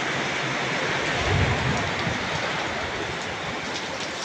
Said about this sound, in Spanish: Vente la lluvia, vente fuerte.